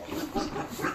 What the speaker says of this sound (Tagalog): Tanawa ang baboy guys, dagko kaayo.